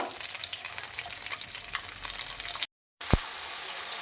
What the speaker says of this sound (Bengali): আর দিয়ে দেবো এর মধ্যে ক্যাপসিকামের কুচিগুলো আর পেঁয়াজ কুচিগুলো আর টমেটো কুচি এগুলো দিয়ে হালকা করে নাড়াচাড়া করবো